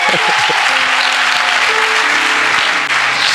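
A church congregation claps in a loud, dense, continuous wave of applause with a faint hum of voices beneath, sustained throughout without pause.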